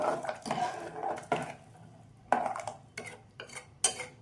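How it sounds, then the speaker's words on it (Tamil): A ladle scrapes and knocks against a pot of black chickpea curry being stirred, giving a string of sharp, close clinks and scrapes in irregular bursts with quiet gaps between. "இப்போது தண்ணி சேர்த்து ஒரு கிண்டி கிண்டி விடலாம்"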